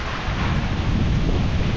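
A powerful typhoon gust blasts in an unbroken, rumbling roar that batters the microphone at close range and stays loud and even from start to finish.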